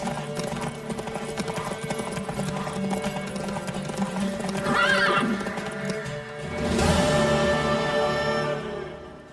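In The Witcher 3: Wild Hunt, horse hooves clop steadily under a constant background, and a horse whinnies twice, the second neigh louder and longer.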